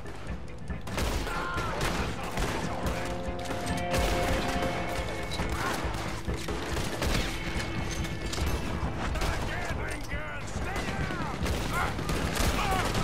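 Dense, continuous gunfire and shooting effects from the video game Red Dead Redemption 2, a loud busy mix of shots, crashes and mechanical clatter with voices talking throughout.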